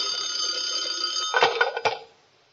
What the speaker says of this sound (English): Suddenly the phone rings.